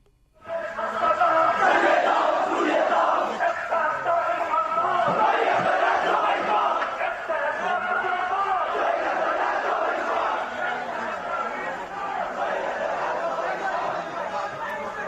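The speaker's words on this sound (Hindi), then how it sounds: "ये जो नारेबाजी सुन रहे हैं" A mob in Bangladesh chants slogans, a loud, sustained roar of many voices shouting together, starting abruptly and continuing for about fifteen seconds with crowd chatter underneath.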